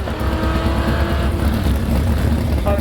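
A Plymouth Barracuda drag car roars loudly down the strip at launch, engine noise heavy and sustained throughout with no pauses or talking.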